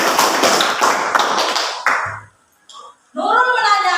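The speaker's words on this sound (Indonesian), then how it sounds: "Tepuk tangan untuk Nurul." Classroom applause for a student breaks out at once, a dense burst of many hands clapping close by that cuts off abruptly after about two seconds, followed by a short lull and then a voice talking.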